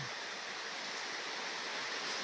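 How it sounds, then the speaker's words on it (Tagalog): Continuous heavy rain falls in a constant, even hiss, steady and moderately quiet throughout, with no voices. "2 araw na tuloy-tuloy yung ulan sa amin"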